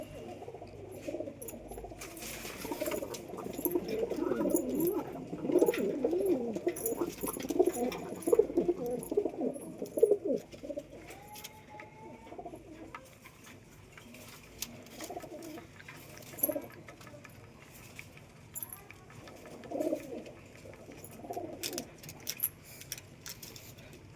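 Pigeons coo at feeding time, a burst of overlapping low murmurs for the first ten seconds that thins to scattered coos, with clicks and taps of pecking throughout.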